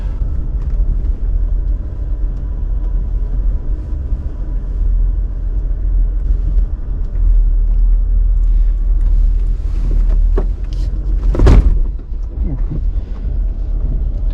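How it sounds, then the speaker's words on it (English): An off-road vehicle creeps down a steep drop on a Moab trail in first gear, a low steady engine rumble with wind buffeting the microphone and a sharp knock or scrape near the end. "I go back down into first. Let the gearing do all the braking for us."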